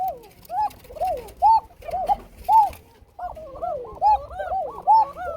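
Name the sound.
male fancy pigeon cooing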